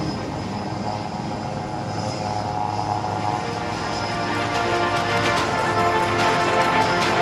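A Sukhoi Su-30MKI jet fighter flies an aerobatic display at the Aero India 2023 air show. Its loud, continuous engine roar swells slightly as the aircraft passes.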